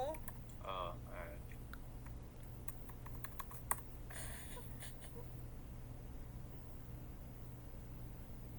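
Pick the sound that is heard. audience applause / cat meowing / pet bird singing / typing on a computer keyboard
typing on a computer keyboard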